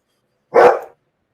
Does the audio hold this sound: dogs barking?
yes